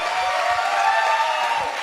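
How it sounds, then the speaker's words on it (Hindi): Audience applause at a motivational seminar in Jaipur for MLM figure Mahipal Guru: a steady, dense wash of clapping from a large crowd, sustained and fairly loud throughout with no pauses. "मैं चाहूंगा एक बार जोरदार तालियां दोस्त होनी चाहिए MLM किंग मिस्टर महिपाल गुरु जी के लिए, जोरदार तालियां"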